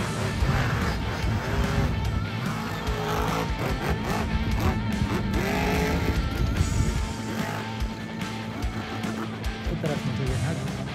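A Monster Jam monster truck drives on a beach, its engine roaring and surging at a distance over crowd noise, with voices talking throughout.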